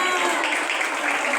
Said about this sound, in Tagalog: Palakpakan natin ang ating mga Scout Masters.